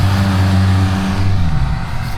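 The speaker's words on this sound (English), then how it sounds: "Oh, that was a nice Porsche." A Porsche car drives past close by, a loud low engine drone and tyre roar that holds steady and then begins to fade and roughen as it moves away.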